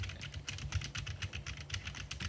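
Rapid, steady clatter of computer keyboard typing, close by, with many crisp key strikes in quick succession and no talking.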